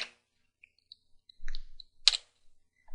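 A Linux command is typed on a computer keyboard in a quiet room, with a few sparse, distinct key clicks and one sharper tap spaced across a near-silent background.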